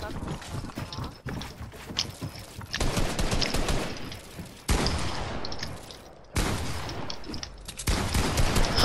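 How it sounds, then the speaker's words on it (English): Rapid gunfire bursts in the video game Fortnite, several dense volleys separated by brief gaps, loud and close, with the tail of each burst ringing out. "He just shot me through my ramp."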